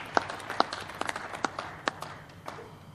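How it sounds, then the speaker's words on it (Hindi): An audience at a film opening ceremony claps for the title Lado Rani, a thin, scattered smattering of hand claps rather than full applause, fairly faint and brief. "पहले लाडो रानी टाइटल के लिए तालियां।"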